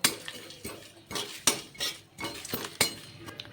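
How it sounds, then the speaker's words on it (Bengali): Poppy seeds dry roast in a wok, heard as a series of close, sharp scraping and clinking strokes of a metal spatula against the pan, repeating roughly every half second with no sizzle and no voices. "পোস্তটাও দিয়ে দেবো পোস্তটাকেও একটু ড্রাই রোস্ট করে নেবো"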